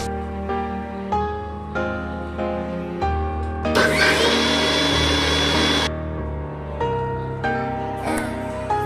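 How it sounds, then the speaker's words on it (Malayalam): Mixer grinder whirs loudly for about two seconds, blending juice ingredients with sugar and cold water in the jar, rising abruptly and cutting off amid ongoing background music. "ഇവയെല്ലാം കൂടെ മിക്സിയുടെ ജാറിലോട്ട് ഇട്ട് കുറച്ച് തണുത്ത വെള്ളം കൂടി ഒഴിച്ച് അടിച്ചെടുക്കും"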